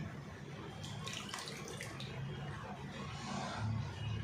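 Plain tap water runs steadily over hands being washed with homemade soap, a continuous close splashing wash with some brighter spattering partway through.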